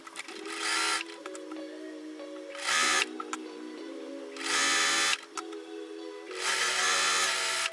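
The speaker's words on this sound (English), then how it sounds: "So I'm just taking first 2 pieces, and I can start sewing and chain piecing everything." A sewing machine chain-pieces quilt patches for a 16-patch wonky checkers block: four loud bursts of rapid mechanical stitching, each a second or so long, separated by quieter pauses with light handling clicks, close and without speech.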